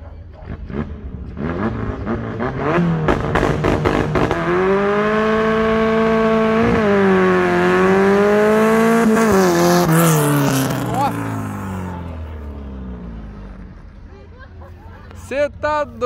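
A naturally aspirated Opel Kadett 2.0 drag car accelerates hard down a street, its engine note climbing loud and sustained through the gears before fading, with shouting bystanders heard at the start and end.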